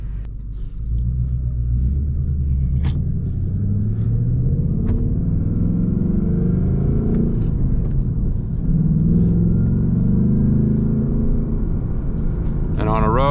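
A 2024 Mustang GT cruises along a narrow curvy road, its engine rumbling low and steady inside the cabin with shifting revs, while a person talks over it.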